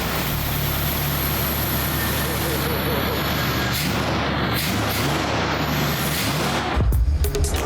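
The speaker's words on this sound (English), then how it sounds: "Maybe a burnout." A Studebaker pickup with a swapped 360 Magnum V8 roars through a burnout, a loud, steady wall of engine and tire noise that shifts abruptly near the end.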